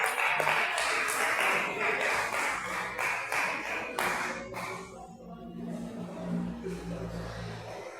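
A church congregation claps together for several seconds to welcome the preacher, a dense steady patter that fades out as tones and a voice carry on beneath.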